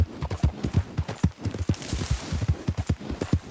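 Rapid hoofbeats of a galloping horse in the video game Red Dead Redemption 2, a steady rhythmic clatter at close range with no voices.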